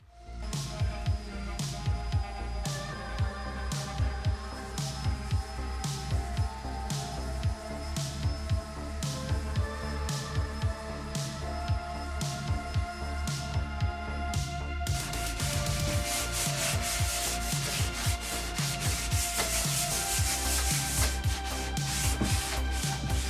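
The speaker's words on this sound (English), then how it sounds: "There's more sanding." Continuous rough scraping of sanding a vintage wooden console table goes on throughout, rhythmic back-and-forth strokes, growing denser and harsher in the second half.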